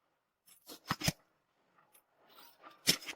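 Scissors snip through a fabric pattern piece in a quiet room, giving several short, crisp cuts in two clusters separated by a brief pause, close and soft.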